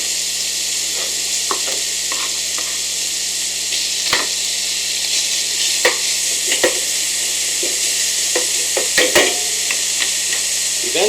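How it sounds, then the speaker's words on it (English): Bacon frying in a non-stick skillet over medium to medium-high heat gives a steady, loud sizzle with scattered sharp pops and crackles throughout. "Got a nice non-stick skillet here as we cook off our bacon"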